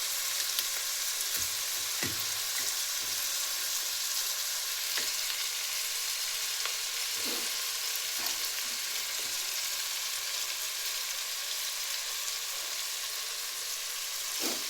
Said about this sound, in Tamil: இது நல்லா வெங்காயம் வதங்கட்டும்